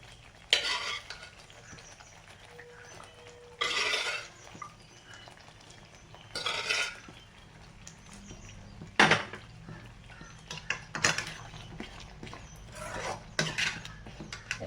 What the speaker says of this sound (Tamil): இப்போ நல்லா கொதிச்சு வந்துடுச்சு இப்போ நான் அவிச்சு வச்ச சுண்டலை போட்டுக்கலாம்